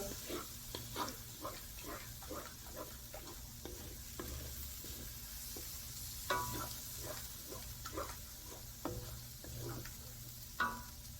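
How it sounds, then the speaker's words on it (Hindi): Chana dal sizzling in hot oil with spices as a spoon stirs it, a steady frying hiss under rhythmic scraping strokes against the pot, with a few louder clanks. "मिसाले के अंदर इसको 3 मिनट फ्राई करना है"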